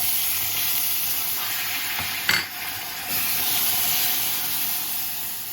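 Water poured onto hot melting caramel for peanut nougat sets off a loud, continuous hissing sizzle, with a brief burst and dip in the middle before the steady hiss resumes.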